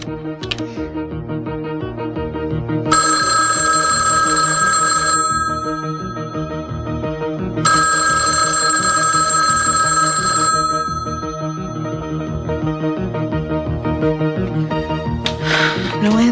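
A telephone rings on and on without being answered, bursts of bright electronic trilling separated by short pauses, loud and close with no voices over it.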